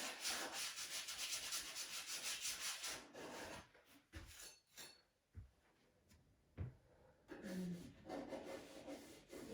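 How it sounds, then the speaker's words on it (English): Paint being scraped off a canvas with a tool, giving dense scratchy rubbing strokes that run steadily at first, then break into separate bursts with short pauses between them, heard up close and alone. "it's more just scraping paint off and making shapes in the canvas with the colour"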